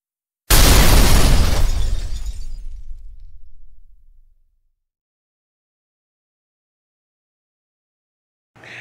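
An 8 gauge mini cannon fires once with a sudden, very loud blast at an outdoor shooting range, followed by a long rumbling echo that fades over several seconds, then silence before another sharp sound begins at the end.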